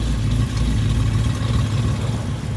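A 2007 Shelby GT500 muscle car with exhaust cutouts runs loudly nearby, a deep, rumbling engine with a throaty idle and slight rises in pitch, and nobody speaking.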